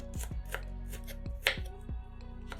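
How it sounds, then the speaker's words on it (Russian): A knife chops briskly through a bell pepper on a cutting board, a quick run of close, crisp knocks in a steady rhythm. "Перец нарезаем сначала пластинками, а затем режем брусочками."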